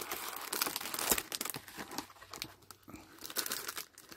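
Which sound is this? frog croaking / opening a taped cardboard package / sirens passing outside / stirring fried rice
opening a taped cardboard package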